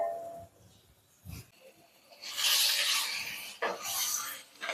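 A spoon stirs masala for Chettinad chicken curry in a pan, making scraping, rubbing sweeps in several bursts, some louder and close, with quiet pauses between them.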